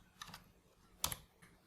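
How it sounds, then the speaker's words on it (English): A few keystrokes on a computer keyboard while entering a search in Windows 10: two quiet taps early, a sharper cluster of clicks about a second in, then one last faint tap, all alone in a quiet room. "Now type Control Panel in search."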